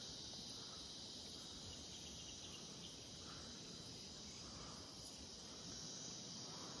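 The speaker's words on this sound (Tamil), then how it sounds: "பூச்சி சவுண்டு." Crickets and other insects chirp outdoors at a scenic spot near Rajapalaiyam, making a steady, shrill, unbroken buzzing drone that holds at an even level throughout, with no voices.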